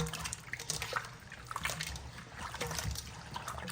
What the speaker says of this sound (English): So now I'm just washing the one for frying first.